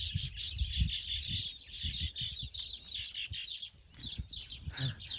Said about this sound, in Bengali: খুব সুন্দর পাখির ডাকগুলো আপনারা শুনতে পারছেন